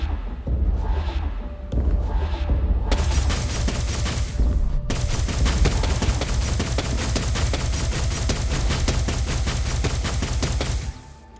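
Guns firing in Kill Wick Reloaded, short bursts and then sustained rapid automatic fire, loud and close, with a dense continuous rattle that stops abruptly at the end.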